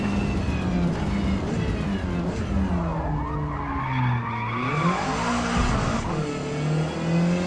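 A race car in Forza Motorsport trail-brakes into a corner, with a continuous loud tire skid over an engine note that drops and rises through the turn; no one talks.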